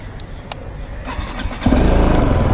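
A BMW 310GS BS6 motorcycle's single-cylinder engine cranks and catches after a brief starter whir, then settles into a steady, loud idle close by after its second service.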